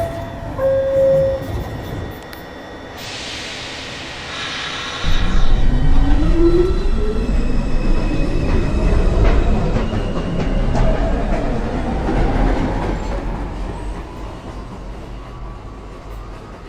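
A downtown local 1 train on the New York subway pulls into a station, a loud rumbling approach with rising wheel and motor tones building from a quieter platform hum, with a short tonal chime or signal near the start.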